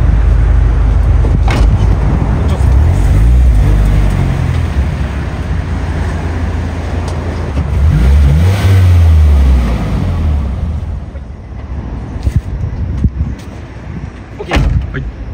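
A Nissan S15 Silvia Spec R with an SR20DE engine and aftermarket muffler revs up and down through its exhaust in a few loud, throaty surges, then settles to idle with scattered knocks and clicks.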